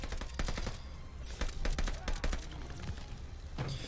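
STG assault rifle in Call of Duty: Vanguard fires in rapid bursts of sharp, loud shots, clustered volleys separated by short pauses, with other battlefield noise mixed in and no talking.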